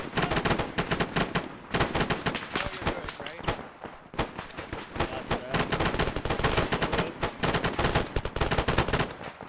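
Dense, continuous automatic gunfire and rapid shots in the ARMA military video game, loud and near with brief pauses, while voices talk over the battle.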